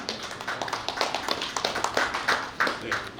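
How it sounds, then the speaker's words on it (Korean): Audience clapping to welcome a speaker at a Korean news outlet's anniversary ceremony and party for newly elected lawmakers: a steady patter of many hands, close and continuous, with no voices over it. "큰 박수로 모시겠습니다"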